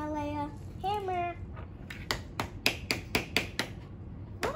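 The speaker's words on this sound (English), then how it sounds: "Okay, so I need the hammer, Leia. Hammer." Sharp toy hammer taps from a Thames and Kosmos tools and building set ring out about ten times in an irregular rhythm, each hit distinct and close, after a voice speaks briefly at the start.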